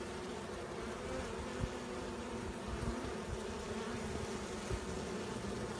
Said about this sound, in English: Fanning that pheromone, that queen pheromone out of that hive.